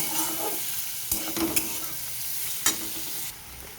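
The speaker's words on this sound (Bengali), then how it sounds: "এবার পেঁয়াজটাকে আমি আলুটার সাথে কিছুক্ষণ ভেজে নেব।" Onion frying with potato in a pan, a continuous close sizzle broken by a few sharp scrapes and clinks of stirring, then the sizzle drops quieter near the end.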